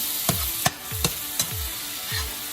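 Corned beef with sweet pepper, corn and onions frying in a pan, a steady close sizzle broken by about five sharp scraping stirs of a utensil, with no voices.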